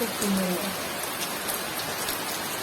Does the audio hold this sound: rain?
yes